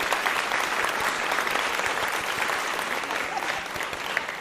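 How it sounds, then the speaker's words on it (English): Audience applause rings out, a continuous, fairly loud patter of many hands clapping together that holds steady through the clip with no voices on top. "I suppose I should give you a round of applause as well"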